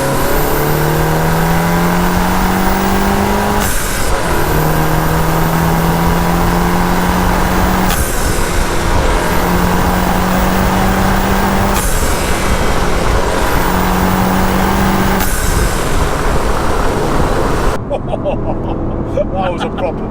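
A VW Golf GTI Clubsport S accelerating hard, its engine rising through several gear pulls with sharp exhaust pops at the shifts, loud and close inside the cabin, with a voice talking over it.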